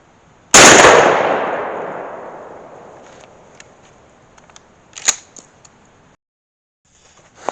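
A single loud shotgun blast while patterning the gun for turkey season, a sharp report that rings and decays over several seconds, followed by a few faint clicks and handling sounds.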